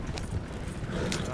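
A horse's hooves clip-clop in the open-world western game Red Dead Redemption 2, a steady trotting beat sitting under a voice talking over it.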